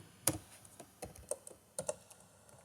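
Rapid, uneven keystrokes on a computer keyboard while C++ code is entered, a close, crisp run of clicks with short pauses between bursts and nothing else over them.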